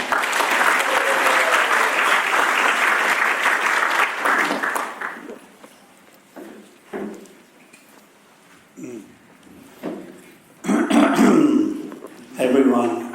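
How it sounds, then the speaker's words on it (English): Loud applause from an audience at a Janmashtami hall program in Tongaat, South Africa, honoring a guru, fills about five seconds, then fades to scattered coughs and murmurs before brief renewed bursts of clapping. "So can we have a huge round of applause for Maharaj?"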